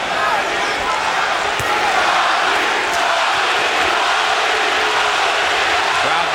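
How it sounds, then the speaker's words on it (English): Large boxing arena crowd at Arturo Gatti versus Micky Ward III in 2003 roars steadily and loudly, a dense wall of voices that swells without break and sounds like rhythmic chanting. "Crowd begins to chant, Gatti, Gatti, Gatti."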